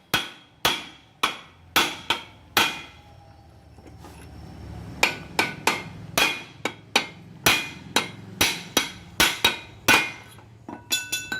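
A tool head is tapped onto its wooden handle with sharp, ringing hammer strikes in uneven bursts, with a short pause midway before a quicker run of blows resumes, close and clear.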